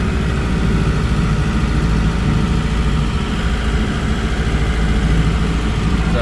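A 2002 Bayliner Capri 185 boat engine runs steadily in gear, a loud, continuous low rumble with constant vibration and no pauses.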